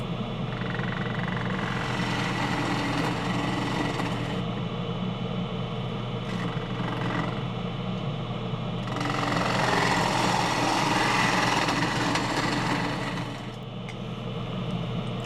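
A wood lathe hollows the inside of a bowl, a continuous close whirring drone with gritty tool scraping that swells louder and brighter for a few seconds midway.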